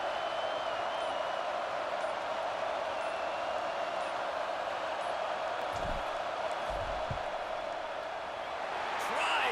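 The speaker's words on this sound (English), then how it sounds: "This crowd trying to do its part to get inside the kicker's head" Stadium crowd in a college football video game, Alabama at Notre Dame, roars during a field goal attempt, a steady, distant wall of noise that holds under a commentator's talk.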